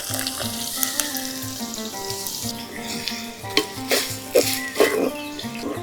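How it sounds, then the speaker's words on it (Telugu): Onions and green chillies fry in oil in a pan with a steady sizzle, while clinks and stirring bumps break in toward the end; there is no speech. "ఈ ఉల్లిపాయలు ముదురు బంగారు రంగులోకి వచ్చే వరకు వేయించుకుందాం"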